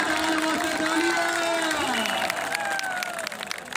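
Crowd applause and cheering at an outdoor volleyball match, steady clapping under a loud, excited announcer-style voice.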